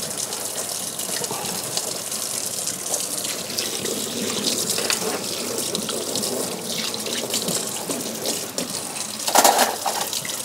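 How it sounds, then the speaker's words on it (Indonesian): Tap water runs steadily into a kitchen sink while hands and a knife are washed beneath it, a continuous close splashing gush with a brief louder splash near the end. "Ntar cuci tangan dulu. Cuci dulu pisaunya."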